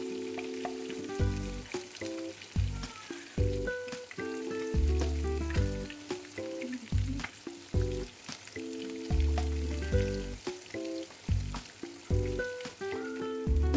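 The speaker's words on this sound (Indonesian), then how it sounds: "di sampingnya aku sekalian goreng ikan" Fish fries in a pan with a soft, continuous sizzle and crackle under steady background music.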